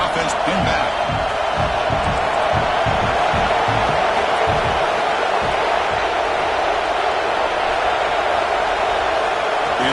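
A football stadium crowd roars and cheers steadily throughout as the defense tries to get a stop, a dense, loud wall of noise with a commentator speaking over it.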